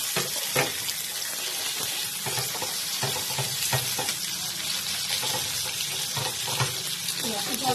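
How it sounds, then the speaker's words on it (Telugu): Fish pieces fry in a little oil in a pan, a steady close hiss and sizzle with intermittent crackles and utensil taps throughout. "మళ్ళీ ఇంకొక సైడ్ కూడా ఫ్రై చేసుకోవాలి."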